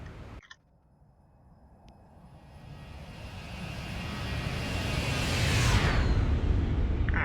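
A Boeing 737 flyby in the X-Plane 11 flight simulator: the jet engine roar starts low after a brief click, then swells steadily louder and brighter as the airliner approaches and passes close.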